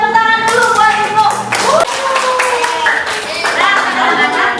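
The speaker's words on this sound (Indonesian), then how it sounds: "Tepuk tangan dulu buat Ibnu" Students in a classroom clap for a classmate named Ibnu after his explanation, a brief burst of scattered hand claps mixed with bright background noise and children's voices throughout.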